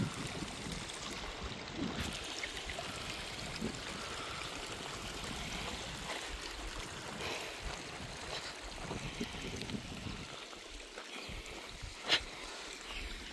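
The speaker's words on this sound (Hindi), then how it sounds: "टैंकर के माध्यम से हम डाल रहे पानी" Water gushes steadily from a tanker truck into a dry pond basin outdoors, a continuous rushing, splashing wash like heavy rain that holds evenly throughout.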